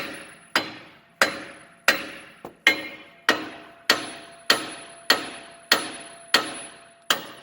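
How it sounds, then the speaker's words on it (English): A hammer strikes a Dodge Ram 4x4 truck's wheel hub and spindle in a steady series of about eleven sharp metallic blows, loud and close, each ringing briefly before the next hit. "we get to have a little bit of fun with the hammer. You can just beat it right here and right there"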